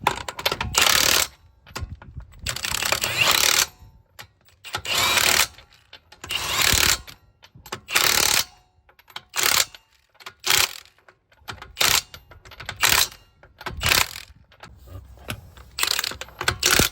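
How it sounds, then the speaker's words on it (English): Wheel nuts on a Nissan V35 Skyline being run down with a power tool or ratchet in a workshop: repeated short bursts of loud, close mechanical clatter in an irregular rhythm, with quiet gaps between, and no talking. "Alright, wheel is on, tighten up."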